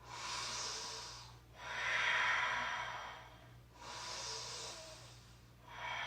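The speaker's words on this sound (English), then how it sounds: "Just take 2 more big breaths." Three slow, deep breaths during a yoga stretch, each a long airy inhale or exhale swelling and fading, close and fairly loud, with brief quiet gaps between them.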